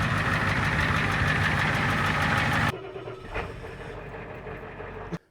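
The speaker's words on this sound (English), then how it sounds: "Probably can't even hear me because it sounds like a truck." A lifted IDI diesel truck with a new exhaust idles loud and close, a dense rattling drone that drops abruptly to a quieter rumble partway through before a sharp knock and cutoff.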